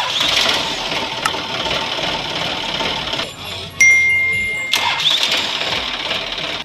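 A Sonalika tractor engine cranks on its repaired self starter and fires, a loud, steady mechanical rumble with a short dip and a sharp surge partway through, and talking over the engine.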